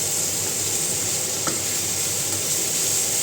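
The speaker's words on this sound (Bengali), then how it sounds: "আলুগুলো দিয়ে একটু একটু ভাজা ভাজা করে নিই। পেঁয়াজটাও ভাজা হয়ে যাবে" Potatoes and onions frying in a pan make a dense, even hiss that holds steady throughout, with one brief soft knock partway through.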